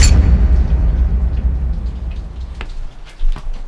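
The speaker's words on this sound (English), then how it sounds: "It's raining for the first time in months." Rain falls steadily during a road trip, a dense wash of drops with low rumbling beneath and a few sharper taps standing out near the end.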